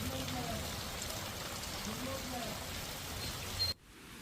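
Heavy monsoon rain falls in Nadiad, Gujarat, a dense steady hiss of rain on surfaces close by, cutting off abruptly near the end.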